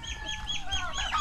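A turkey being fed jackfruit gives a run of nasal, honking calls, close and fairly steady, with no talk over it.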